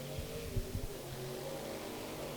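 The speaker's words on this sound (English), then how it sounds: "Noble and Stamper power their way around the speedway" Hobby stock race cars roar around a speedway oval, a steady engine drone with brief swells as cars pass, heard at moderate distance and fairly muted.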